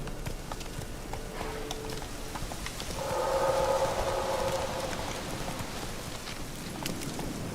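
Horse hooves clip-clopping in The Witcher 3 Wild Hunt, a soft, steady gait heard at moderate distance under a rain-like hiss, with a brief tonal hum in the middle.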